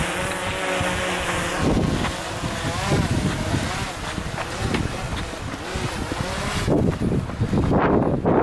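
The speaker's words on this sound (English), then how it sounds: "it's so windy out there" Strong wind buffets the microphone outdoors, a steady roaring rush with gusts, and a voice speaks over it.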